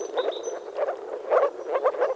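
A group of moor frogs calls from shallow flooded grassland, soft gurgling croaks overlapping in rapid clusters, steady and close without voices.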